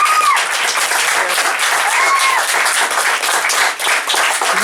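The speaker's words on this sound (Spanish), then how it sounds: "un fuerte aplauso para Manuelito Cuellar" A literary reading audience gives Margarito Cuéllar loud, sustained applause: dense clapping throughout, with a few whistles rising over the crowd.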